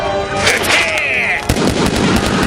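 Gunfire from the Japanese tokusatsu TV show Samurai Sentai Shinkenger rings out in a loud, close burst of rapid cracking shots layered with sci-fi whooshes and blasts, all packed into a couple of seconds.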